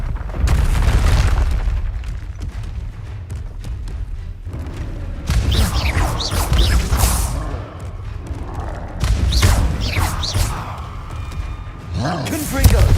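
Confringo spell explosions from Hogwarts Legacy land as loud, deep booms and thuds in repeated waves, with a spoken voice and other game sounds in between the blasts.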